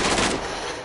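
Gunfire in the action game Nier, a short loud burst of rapid shots that fades into a ringing tail in under a second, close and harsh with no voices over it.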